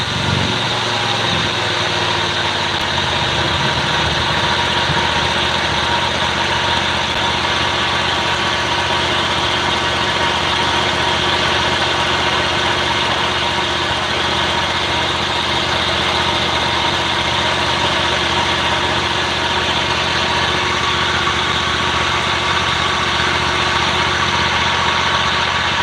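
A boat engine idles steadily after being throttled down, a loud continuous low rumble with an even vibrating drone that holds for the whole stretch without speech.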